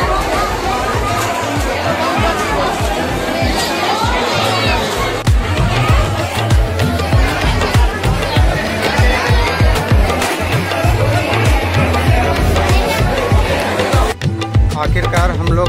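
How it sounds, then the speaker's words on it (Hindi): A dense crowd of pilgrims waiting in a long queue for the boat to Vivekananda Rock at Kanyakumari, India, with steady overlapping chatter and babble close around, and a few louder voices rising from the hubbub. "ये स्वामी विवेकानंद तपस्वी में जाने वालों श्रद्धालुओं की भीड़ है।"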